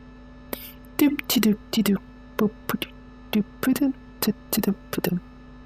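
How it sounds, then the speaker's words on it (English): Electrical systems of a MiG-21Bis left switched on in DCS hum steadily with a low tonal drone throughout, while someone talks in short bursts over it. "I didn't turn off my electrical systems, which is the humming that you can still hear."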